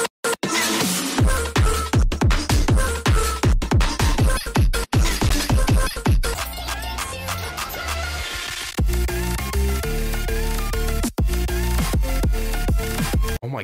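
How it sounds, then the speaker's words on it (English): A bright, meowing synth plays a punchy, rhythmic dariacore pattern with heavy bass, loud and continuous, shifting to sustained chords partway through. "Oh my god, that is the cat synth."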